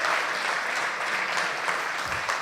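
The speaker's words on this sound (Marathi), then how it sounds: "यांच्या सगळ्यांसाठी एकदा जोरदार टाळ्या व्हायला पाहिजेत" Dense, continuous clapping from an audience at an awards ceremony rolls on evenly throughout, fairly distant and without any speech.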